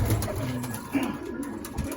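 Soft, low cooing from pigeons close by, a short murmuring call against faint background noise.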